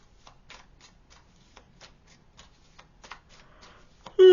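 Tarot cards shuffled by hand in a run of crisp, rapid riffling flicks and taps, close and fairly quiet, with no talking over them.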